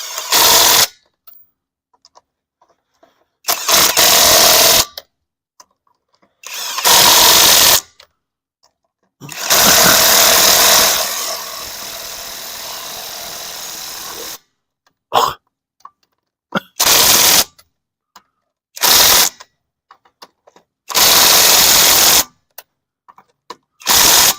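A power torque tool working loose a rusted wheel on a Dodge Dakota, loud close bursts of rattling impact hammering, some several seconds long and others brief, separated by silences.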